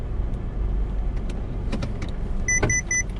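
A car parks on a street in Macau, its steady low engine and road rumble running throughout, with a few light clicks and a brief electronic chime near the end, no voices.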